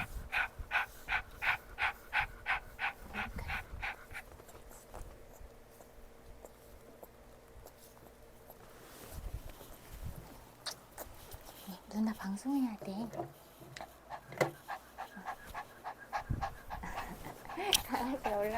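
A dog pants with quick, rhythmic breaths close by through the first few seconds, then again more faintly, mixed with snuffling and movement while someone talks softly.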